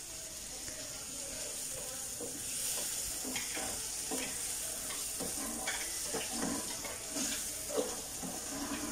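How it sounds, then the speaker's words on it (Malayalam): Tomato, green chilli and curry leaves are sautéed in a pan for an oats masala dosa. The result is a soft, continuous sizzle with scattered scraping and stirring clicks, fairly quiet and heard without talk. "നമ്മൾ അരിഞ്ഞു വെച്ച തക്കാളി, പച്ചമുളക്, കറിവേപ്പിലയും കൂടി ചേർത്ത് കൊടുത്തിട്ട് നന്നായിട്ടൊന്ന് വഴറ്റിയിട്ട്"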